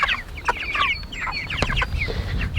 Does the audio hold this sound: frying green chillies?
no